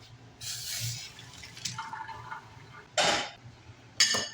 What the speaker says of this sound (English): I just cooked the egg noodles and I'm going to drain them over here.